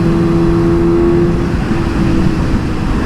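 A Suzuki GSX-S 750 motorcycle is ridden along a grimy road, its engine droning loud and steady under rushing wind noise, with no voice heard.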